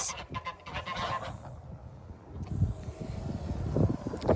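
Farm geese honk in a few short bursts, fairly close, with light wind noise between calls and no talking.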